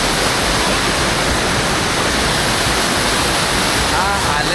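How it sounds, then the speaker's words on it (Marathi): A waterfall at Zenith, reached by walking up along a river, roars as a loud, steady, broadband wash of rushing water that fills the whole stretch without a break. "या वॉटरफॉलवर."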